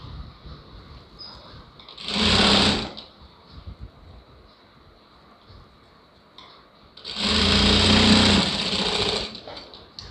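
Two loud bursts of sewing machine stitching on a blouse lining, each lasting about a second, with a quiet hum between them.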